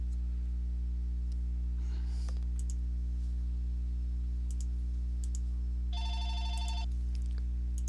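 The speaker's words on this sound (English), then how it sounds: "Sorry, phone ring." A telephone rings once in a short electronic burst near the end, over a loud steady electrical hum, with a few faint clicks earlier.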